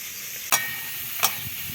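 Ground coriander and chilli powder sizzle steadily in hot oil, a constant soft frying hiss with two brief sharper bursts as the spices go into the pan, no talking.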